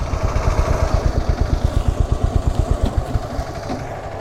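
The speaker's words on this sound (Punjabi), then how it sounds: "ਮੋਟਰਸਾਈਕਲ ਮੈਂ ਬਾਹਰ ਖੜਾ ਕਰਤਾ" A motorcycle engine idles steadily outside a gurdwara as it is parked, a close, even low-pitched putter that fades slightly at the end.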